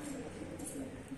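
Pigeons cooing at a loft, soft repeated low coos close by over a faint background, with a few higher sounds above.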